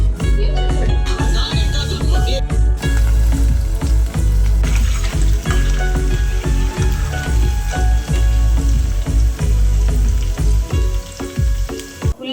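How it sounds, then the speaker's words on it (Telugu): Onions frying for chicken biryani, a loud, dense sizzle running steadily throughout with scattered clinks and stirring knocks layered over it, close and continuous. "ఉల్లిపాయలు వేగుతూ ఉన్నాయి."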